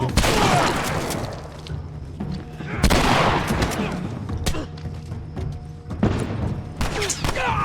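Enemy gunfire in The Last of Us: a sharp, dense fusillade of shots with heavy thumps and booms, some cracks close and loud, others scattered, continuing steadily over a muffled background.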